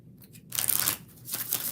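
A deck of tarot cards being shuffled by hand: a brief, close riffling rustle bursts out in the middle, then a softer second flutter follows.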